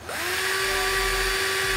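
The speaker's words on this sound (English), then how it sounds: "I'm going to take a drill right now and just drill holes into this to see if it's more satisfying" A power drill spins up and bores into a bar of soap, a steady high whine with a brief rising start, close and loud with no talking.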